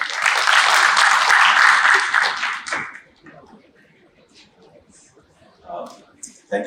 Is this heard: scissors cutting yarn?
no